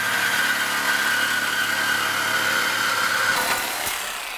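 Power tool cutting through an exhaust muffler beside the exhaust hanger bar during an exhaust system install, a loud continuous grinding whine with a steady tone that tapers off at the end.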